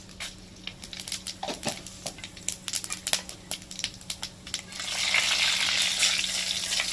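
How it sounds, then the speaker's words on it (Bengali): Dried red chillies and panch phoron (five-spice) hit hot oil: scattered sharp crackles and pops come first, then a fuller, steady sizzle takes over. No one speaks. "একটু লাল করে ভেজে নিতে হয় ফোড়নটাকে ভালো মতন"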